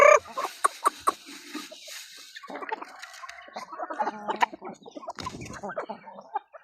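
Native chickens cluck and murmur close by in short, irregular bursts, with a few louder squawks and faint background noise.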